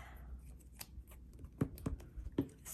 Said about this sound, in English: I'm going to round these corners. You can use your corner rounder or your scissors. Just going to use my scissors.